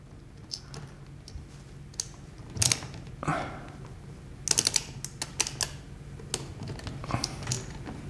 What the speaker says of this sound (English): we need to unscrew with an Allen key